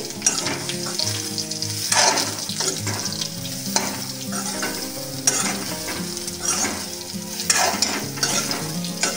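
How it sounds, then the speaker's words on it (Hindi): Soybean chunks are stir-fried with onion and chili in a pan, producing a continuous close sizzle broken by repeated scraping and stirring strokes at a steady pace, with no one talking. "चलिए अब हम लोग सोयाबीन बड़ी को भी डाल लेते हैं भूनने के लिए"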